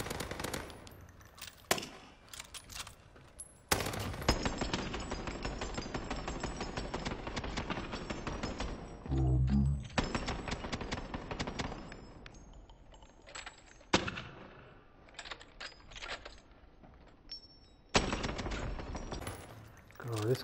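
Rapid automatic gunfire from a Cuba carbine in Warzone on Rebirth Island, loud dense bursts that cut in and out across the scene, with game sounds and talk mixed in between.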